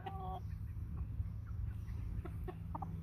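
American Bresse chickens, about 10 to 12 weeks old, cluck in short bursts at close range against a steady low hum from the pen.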